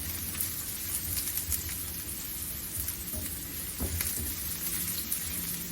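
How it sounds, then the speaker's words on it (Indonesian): Garlic stir-fried in a pan alongside sweet corn, a steady close sizzle with occasional scraping stirs and small pops running throughout, no voices. "Jadi ini kita tumis sampai harum. Nah, sekarang boleh kita masukkan bawang putihnya."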